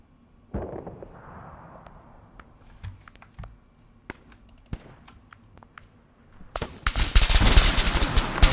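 Incoming gunfire in the Arma 3 Apex war game on the Tanoa jungle map: scattered sharp shots and distant thuds build to a loud, dense burst of automatic fire near the end.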